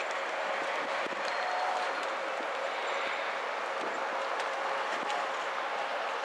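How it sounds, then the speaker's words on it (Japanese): The Resort Yamadori train departs Kairakuen Station, a steady broadband rail rumble and hiss with faint rhythmic clicks, moderately distant and continuous, with no talk heard. "列車が発車しております。"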